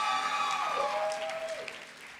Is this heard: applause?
yes